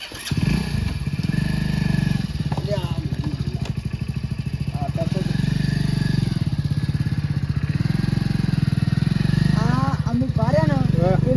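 A motorcycle engine runs steadily and close, with its rumble rising and falling as it moves, while people talk over it.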